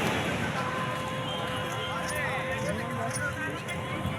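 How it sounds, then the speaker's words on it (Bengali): A horse giving rides walks along crowded Puri beach on a Kartik Purnima night, its hoofbeats a soft, fairly close clip-clop under surf noise and busy crowd chatter. "এই যে ঘোড়া যাচ্ছে, সবাই ঘোড়ার পিঠে চাপতে ব্যস্ত।"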